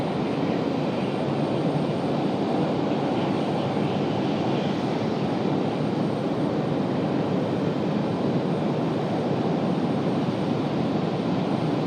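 An American Airlines Boeing 777 takes off from runway 23 left at Raleigh-Durham airport, a loud, steady, broadband jet roar holding constant throughout, with no talking.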